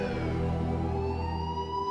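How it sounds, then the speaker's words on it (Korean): A police car siren in a dramatic retelling of a tense break-in, heard as a steady, sustained wail with layered tones, held loud and continuous throughout without voices. "구세주 같은 경찰차 사이렌 소리"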